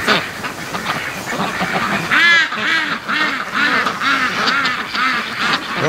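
Several ducks, Muscovy among them, quack close by in a rapid run of loud, evenly spaced calls that overlap as the flock approaches, with no talking.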